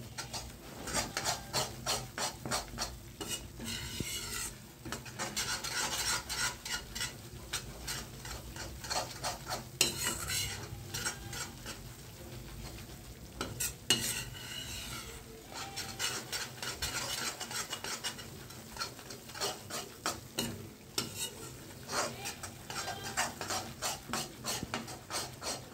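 A spoon scrapes and stirs urad flour roasting in a pan for the winter sweet adadiya, making a steady, rhythmic rasping that continues throughout at close range with no talk.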